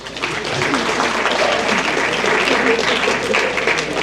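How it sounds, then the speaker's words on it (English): A banquet crowd at a high school athletic awards night claps steadily for the JV softball players, a dense, even round of applause that holds for about four seconds. "let's give our JV softball players one more round of applause"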